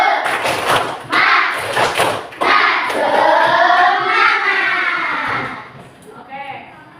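Fourth-grade children in an arts and culture class do a rhythmic spirit-clapping routine, loud bursts of hand claps in patterned groups mixed with children's chanting voices and a teacher leading.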